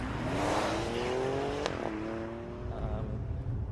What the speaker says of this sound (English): Like all these modern performance turbo engines, it's not a beautiful noise, but again, it suits the car. It sounds angry